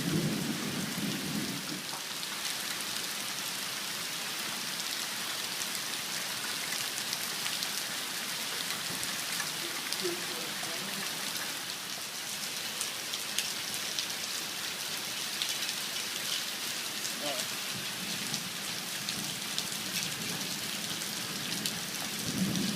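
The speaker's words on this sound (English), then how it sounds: "Hadn't rained in a month and I started up my spray rig and it is flooding." Heavy rain pours steadily at an outdoor job site in Arlington, Texas, with low rumbles of thunder rolling underneath; a constant, dense hiss with no voices.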